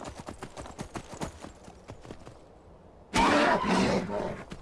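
Horse hooves clip-clopping in the video game Skyrim, a steady run of near, evenly spaced hoof falls that is suddenly swamped by a loud, broad roaring burst toward the end.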